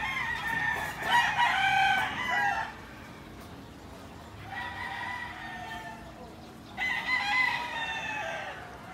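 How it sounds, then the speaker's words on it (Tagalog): Roosters crow in three loud, drawn-out bursts from a flock of chickens near a villa, with quieter clucking and faint rustling in the gaps between crows. "Doon damo manok da sa pihak ko."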